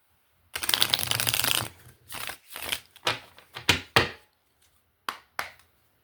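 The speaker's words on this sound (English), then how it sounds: "I'm going to cut the deck" A deck of cards is shuffled by hand, starting with a long riffle burst followed by several shorter riffles and taps. The sound is close, crisp and without talk.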